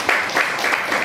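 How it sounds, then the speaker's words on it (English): An audience at a professional seminar on ESG reporting breaks into applause, a brief burst of crowd clapping with rhythmic peaks, fairly close and loud. "Can we have a big round of applause?"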